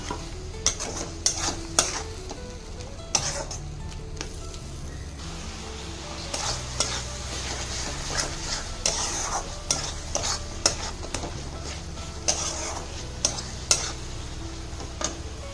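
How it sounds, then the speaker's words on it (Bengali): Spices for a homemade fish and potato curry are stirred and fried in a pan, with steady close scraping and a soft sizzle running throughout, marked by a few sharper clinks of the spoon against the pan. "মশলাটা দেওয়ার পর আমি জল দিয়ে ভালো করে মশলাটা কষে নেব।"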